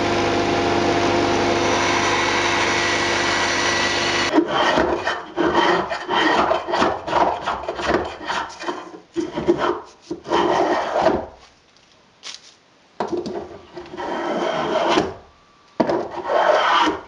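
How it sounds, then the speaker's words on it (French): Rhythmic rasping strokes of a spokeshave shaving wood, repeated back and forth with short pauses, following a few seconds of steady machine noise at the start. "je fais la finition avec les vastringues"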